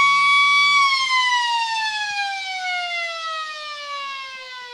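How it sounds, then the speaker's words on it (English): A loud, sustained siren sounds to end a Riverina AFL match between the Lions and the Eagles, one long harmonic tone that slowly falls in pitch as it fades. "as the siren goes"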